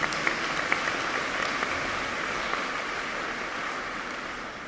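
Congregation applauding during a festival Mass at a parish church, a soft, continuous wash of many hands clapping at a distance that holds steady and fades slightly at the end.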